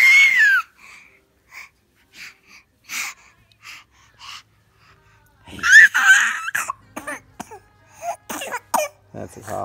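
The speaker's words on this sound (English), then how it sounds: "That's a cough." A baby makes a few short coughing and throat-clearing sounds, close by, with soft breathy vocal noises and brief gaps between them.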